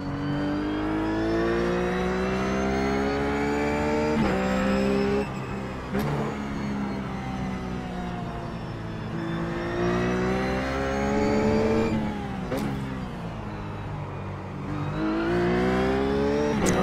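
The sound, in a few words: Ruf GT3 race car engine in iRacing video game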